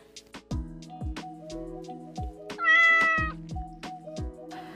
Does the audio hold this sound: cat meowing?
yes